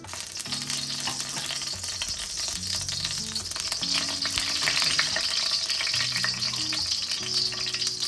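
Oil in a hot sauce wok, heated for chilli chicken, gives a continuous bright sizzle and crackle under a layer of background music, steady and close for the whole stretch with no talking.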